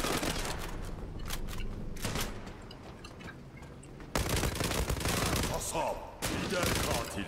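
Sustained bursts of automatic gunfire in the online shooter Zula, dense and continuous with sharp onsets around four and six seconds, while players talk over the shooting.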